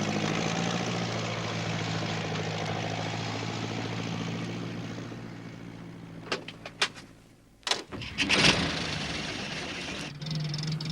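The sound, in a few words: tractor engine in the fog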